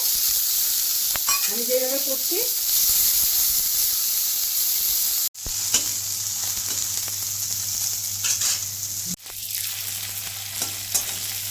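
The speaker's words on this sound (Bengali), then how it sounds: "ওখানে করলাটাকে ভেজে নিচ্ছি" Bitter gourd frying in oil in a pan, giving a continuous close sizzle and hiss with scraping stirs, broken by two abrupt cuts, and a low steady hum joining in the second half.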